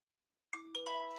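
Bright bell tones ring out after a silent half second, struck twice in quick succession with a sustained, shimmering ring that hangs on, fairly faint and alone.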